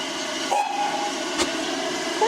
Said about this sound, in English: obviously the train is turning around here and going back in the direction that it just came from